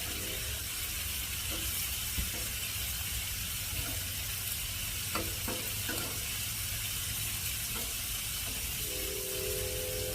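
Keto bacon cheeseburgers sizzle steadily in a hot pan, a loud continuous frying hiss with occasional pops and spatula scrapes throughout, no voices.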